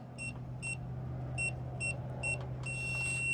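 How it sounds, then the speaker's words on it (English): A double-sided keyless gate lock sounds a series of short electronic beeps, then one long sustained tone, heard close over a steady low hum. "there's the long beep letting you know"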